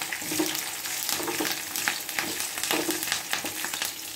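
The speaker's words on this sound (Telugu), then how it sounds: "మరి పోపు సపరేట్గా వేసుకోవాలి." Tempering of chillies and curry leaves frying in hot oil for a ridge gourd sesame chutney, a continuous crackling sizzle with bursts of spatter, close and steady throughout, no voices.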